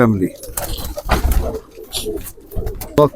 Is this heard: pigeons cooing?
yes